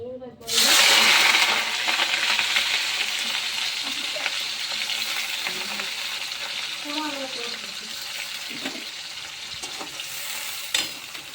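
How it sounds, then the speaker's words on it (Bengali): Chopped onions drop into hot oil and burst into a loud, steady sizzle that carries on throughout the clip, with light stirring clinks now and then. "তেলটা গরম হয়ে গেছে পেঁয়াজ কুচিগুলো ছেড়ে দিচ্ছি"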